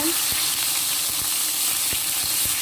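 Tomatoes cooking down in a hot pan for sambal give off a steady loud sizzle, broken by soft rhythmic taps of stirring.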